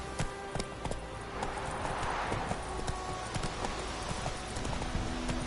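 Roach, the horse in The Witcher 3, gallops with steady, rapid hoofbeats that run close and loud through the whole stretch, over a low game soundscape.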